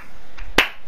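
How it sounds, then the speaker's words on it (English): A single sharp slap of a hand against a cheek, a brief bright smack standing alone over a quiet background with a faint softer tap just before it. "can you not clap my cheek so hard?"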